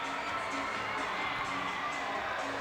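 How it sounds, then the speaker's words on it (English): Home crowd at an indoor soccer game between the Dallas Sidekicks and Mesquite Outlaws at the Allen Event Center, a broad sustained roar of cheering filling the arena, steady and fairly loud. "The Sidekicks with something to celebrate in front of the home crowd at the Allen Event Center"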